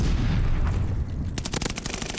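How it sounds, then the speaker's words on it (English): Cooper Carbine automatic fire in a Call of Duty Vanguard match sounds as a rapid, loud burst of closely spaced shots after a stretch of dense battle noise, with no talking. "Just piecing them up with the nasty high mobility Cooper Carbine"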